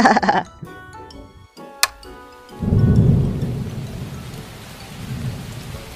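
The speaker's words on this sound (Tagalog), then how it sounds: "lumakas na yung ulan" Heavy rain pours down loudly as a dense, steady hiss after a brief quieter moment with a sharp crack, continuing without letup.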